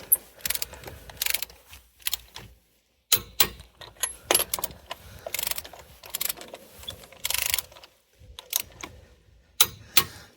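Lug nuts are tightened with a ratchet while Nitto Terra Grappler G3 tires are rotated, producing loud, close bursts of rapid clicking broken by short pauses, with no talking.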